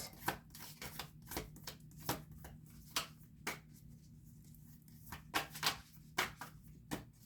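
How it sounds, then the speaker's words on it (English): Tarot cards being shuffled by hand, a run of sharp, close riffling snaps and flicks in an irregular rhythm over a low steady hum, with no talking. "These cards are not easy for me to shuffle."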